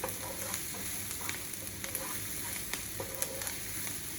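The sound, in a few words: root vegetable hash frying and being stirred in a pan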